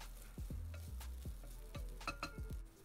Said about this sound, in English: Keep stirring till all the onion starts to caramelize and the cauliflower starts to become soft.